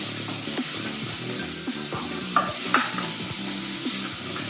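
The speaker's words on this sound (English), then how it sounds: "Saute those babies up. I absolutely love garlic." Garlic sautéing in a pan for mushroom risotto: a steady hiss of frying oil runs throughout, broken by repeated scrapes and knocks of a utensil stirring the pan, close and fairly loud.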